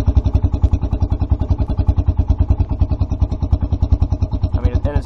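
A 2016 Kawasaki Brute Force 300 ATV idles with a deep, steady thumping exhaust, rapid even pulses loud and close throughout, with a faint mechanical clatter near the end.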